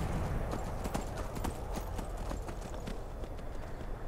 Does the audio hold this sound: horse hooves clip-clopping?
yes